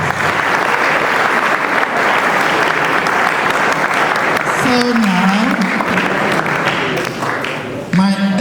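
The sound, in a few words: audience applause at school prize giving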